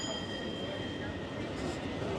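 A red tram rolls along Istiklal Street in Istanbul, a faint steady rumble of wheels and street bustle with a thin ringing tone near the start.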